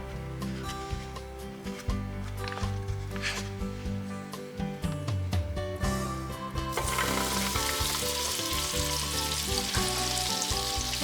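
Thai banana roti frying in hot shortening in a pan, a steady broadband sizzle with stirring and scraping textures that grows brighter and denser in the second half, heard alone without talk.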